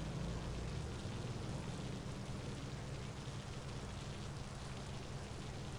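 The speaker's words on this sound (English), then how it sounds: "I don't know if that's supposed to be like in-game rain noise or something" Steady, dense in-game rain noise from the racing game Need for Speed Underground 2 hisses without a break, a broadband wash with a low rumble underneath and no voices.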